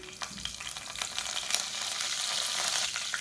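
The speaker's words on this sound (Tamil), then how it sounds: "கடுகு சோம்பு பொரியுது" Steady crackling sizzle of mustard and fennel seeds popping in hot oil, a dense continuous hiss with small sharp pops throughout, close and fairly loud.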